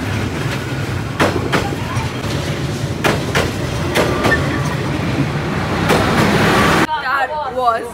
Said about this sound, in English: Like, it's a narrow street and the train passes through it.